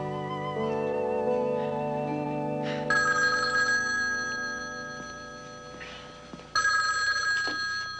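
A telephone rings indoors in a 1982 TV movie scene, bright electronic rings sounding in two bursts over a lingering musical tone, with no talk.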